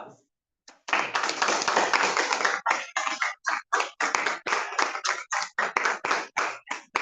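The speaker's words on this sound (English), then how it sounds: "please give a round of applause" A small business-meeting audience applauds after a brief quiet moment, with dense clapping at first that thins into scattered, uneven bursts of claps, fairly close and clear.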